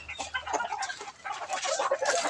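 Chickens belonging to Joey Estrada cluck in short repeated bursts, fairly close and moderately loud, with a steady run of calls and no talking.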